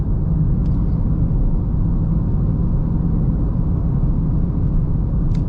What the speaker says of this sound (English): excluding the tyre roar, that's pretty good